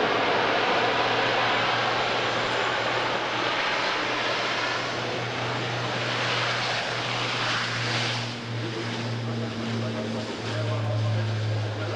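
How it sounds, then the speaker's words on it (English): An Airbus A400M military transport aircraft makes a flying display at the Farnborough Air Show, its propeller engines droning loudly and steadily with a throbbing low hum, wind-buffeted, as the plane passes overhead. "we say hello to the Airbus A400M from Airbus Defence and Space"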